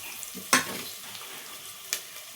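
Tomatoes hit hot oil seasoned with turmeric in a pan, giving a steady faint sizzle with two sharp clatters of utensils stirring, near and without talk.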